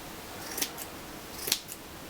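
Two crisp scissor snips trim a round yarn pom-pom, each a quick metallic cut spaced about a second apart, close and fairly quiet with a soft follow-on click after each.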